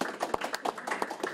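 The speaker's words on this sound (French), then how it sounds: "on va applaudir" A small crowd claps together at the inauguration of a new building, producing steady, close applause with dense overlapping claps throughout.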